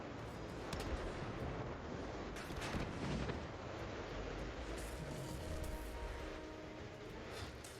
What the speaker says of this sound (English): I think he was just trying to spit fire out of like his sides again.